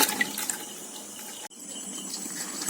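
Running water rinsing large live koi fish (climbing perch) clean, a steady broadband splashing wash that briefly cuts out near the middle, then resumes.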